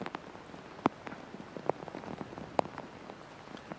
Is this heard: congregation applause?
no